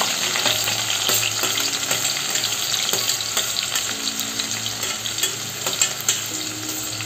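Finely chopped onion frying with garlic in a pan for a Maharashtrian tribal wild-vegetable dish, a dense continuous sizzle and hiss with occasional stirring scrapes, close and loud, no talk.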